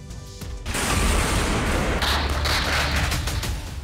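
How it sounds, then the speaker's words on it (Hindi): A missile strike in the Israel–Iran conflict brings down a multi-storey building: a sudden loud blast erupts and rolls into a sustained roaring, crackling rumble of debris, with further booming bursts. "एक धमाका और सब धुआं धुआं।"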